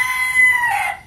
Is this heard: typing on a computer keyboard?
no